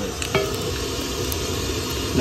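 Food being stirred in a hot cooking pot, a steady frying hiss with a few metallic scrapes and clinks of a spoon against the pan, close by and brief.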